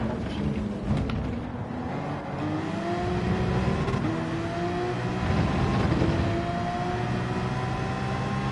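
A race car engine in the Gran Turismo 7 video game revs steadily, its pitch climbing and falling through repeated gear changes, loud and close without pause.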